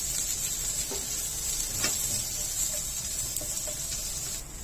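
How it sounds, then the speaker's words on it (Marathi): Sliced onion frying in oil in a pan for chicken curry, a steady close hissing sizzle with a few soft stirring scrapes, no voices. "तेलामध्ये उभा चिरून घेतलेला कांदा घालून घ्यायचा आहे आणि चांगला खरपूस असा भाजून घ्यायचा आहे"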